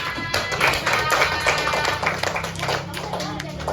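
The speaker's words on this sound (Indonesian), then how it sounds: "Ayo, sekarang tepuk tangan untuk kita semua." A sixth-grade class claps together in a civics lesson, the quick dense hand claps close and steady for a few seconds while voices talk over them.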